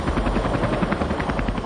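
A Bell Huey combat helicopter drones steadily and loudly overhead, with a continuous thumping rotor and engine roar and no talk.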